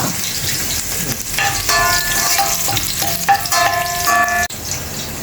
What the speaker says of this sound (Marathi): मसाल्यामध्ये आलं आणि लसूण चेचलेला टाकायचं परतावा